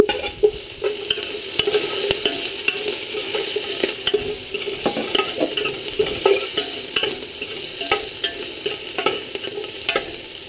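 Garlic and onion sizzle steadily in hot oil in a pot for beef pochero, with frequent spoon scrapes and stirring clatter over a constant frying hiss, close and fairly loud.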